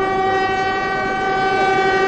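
A train runs along the Yunnan railway line, with a steady, sustained horn tone held over continuous rolling rail noise throughout, close and loud.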